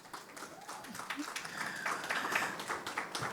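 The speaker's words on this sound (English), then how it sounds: "Can I get a round of applause for our panelists?" Applause for a panel of banking speakers at a corporate tax conference, a steady crowd clapping that swells slightly over a few seconds, with some voices mixed in.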